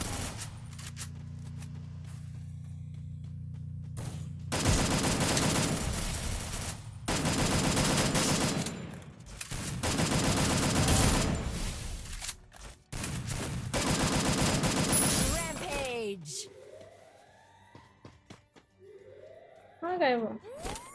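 Sniper gunfire from an AWM rifle in the mobile battle-royale game Free Fire, bursts of loud shots spread over several seconds with game effects and sweeping tones between, and people talking throughout.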